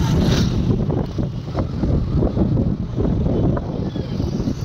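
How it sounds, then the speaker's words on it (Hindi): Strong wind buffets outdoors while riding a scooter, producing a constant loud rushing roar and rumbling microphone gusts throughout, with no voices heard. "तेज़ हवा चल रही है"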